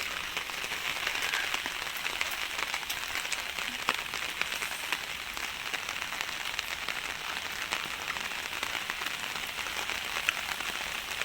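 Heavy rain falls in Agra amid flooding, making a dense, continuous hiss of drops on surfaces that stays even and fairly loud throughout, with no talk.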